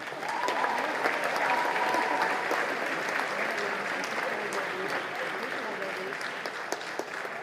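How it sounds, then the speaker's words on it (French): A congress audience at a festive evening in Marseille applauds steadily to welcome a speaker, a dense, even clapping that holds for several seconds. "qu'on applaudisse et qu'on accueille Thomas Poète"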